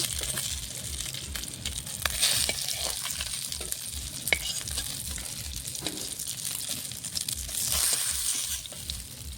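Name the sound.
catla fish pieces frying in oil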